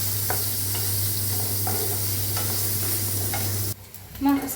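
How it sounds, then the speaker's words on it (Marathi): Paneer frying in hot oil in a kadai, a continuous close sizzle with occasional stirring scrapes, cutting off near the end to a brief quieter moment and a clink. "पनीर बी आपले मस्त असं भाजायला लागलं आहे"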